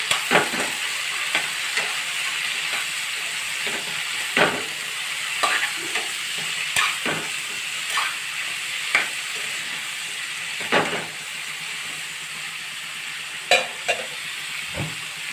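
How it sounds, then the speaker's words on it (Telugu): Capsicum pieces with turmeric and salt are stirred in a frying pan, a soft constant sizzle broken by intermittent clacks and scrapes of the spoon against the pan, close and without speech. "ఇవి రెండు వేసిన తర్వాత బాగా అయితే కలుపుకోవాలి."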